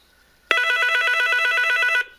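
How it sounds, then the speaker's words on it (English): A Sentry call blocker's ringer unit rings loudly and steadily for about a second and a half, a bright electronic warble starting abruptly and stopping cleanly, with no voices. "the ringer unit on the Sentry blocker will start ringing"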